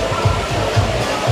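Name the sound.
ventilated seat fans blowing in a Denza car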